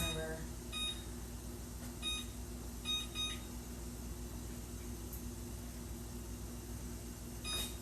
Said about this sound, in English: Alright, so I'm setting the timer.